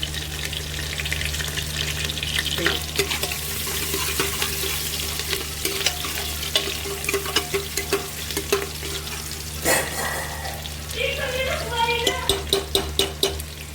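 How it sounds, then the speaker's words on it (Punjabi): Onions frying and being stirred in a pan for a potato-chickpea curry, giving a steady close sizzle with scraping stirs that turn into quick, sharp clicks near the end, alone without speech. "ਵਿੱਚ ਪਿਆਜ਼ ਭੁੱਜ ਦਿਓ"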